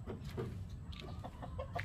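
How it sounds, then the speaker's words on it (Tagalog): Chickens cluck in short, scattered calls over a steady low background hum, several birds nearby with no talking. "Ingay talaga dito, ang daming manok."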